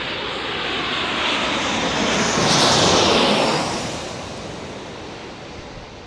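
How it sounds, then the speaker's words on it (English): A Southwest Airlines airliner landing at San Diego roars past loud and close, a broad jet rush that swells to a peak midway and then slowly fades, with no voices. "Southwest Airlines landing next."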